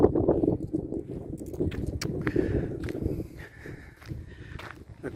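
Horses in open countryside near Rozier-en-Donzy, Loire, with a busy mix of hoof clops and footsteps close by, steady and scuffing throughout.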